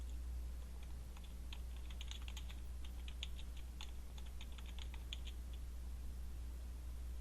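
Someone types text on a computer keyboard, producing faint, quick clusters of key clicks over a steady low hum, with no speech.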